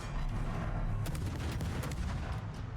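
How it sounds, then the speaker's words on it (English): Naval guns fire during a World of Warships battle with a Tier 10 Soviet destroyer, Khabarovsk, as a dense, steady barrage rumbles on, sharp cracks cutting through a heavy continuous roar with no voices. "Instead, you're going to open up with your guns"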